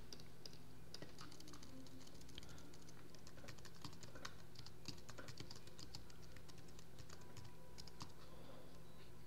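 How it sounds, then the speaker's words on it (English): Steady, quiet clicking of keys on a computer keyboard as text is typed, an even patter of taps close by over a faint background hum, with no voices. "But you can type whatever you want on this sign."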